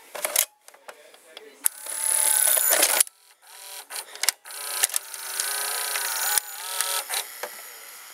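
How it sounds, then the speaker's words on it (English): Small electric motor in an Emerson VCR2002 turning a worm gear and a train of plastic reduction gears, a close, busy whirring and clicking that starts and stops in several bursts. "So let's see the motor turning closer."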